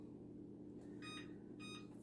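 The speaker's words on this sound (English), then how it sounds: "I'm going to set the timer" An oven timer is set while a peach cobbler bakes, giving two short electronic beeps about half a second apart over a low, steady kitchen hum.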